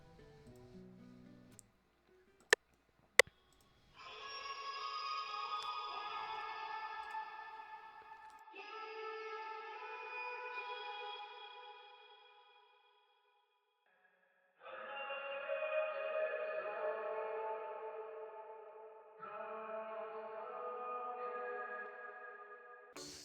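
Two versions of an Afrobeats melody loop from FL Cloud, one pitched up and one pitched down twelve semitones, play in turn as short synth phrases separated by brief pauses, after a couple of sharp clicks at the start; no voices.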